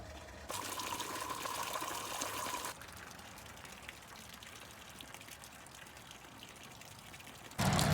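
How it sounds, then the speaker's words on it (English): Water drains from an RV freshwater tank while the RV is being winterized: a loud, steady rush for about two seconds, then a quieter, continuous flow, and a sudden strong gush again at the very end. "I want to pull the lever to dump the freshwater tank."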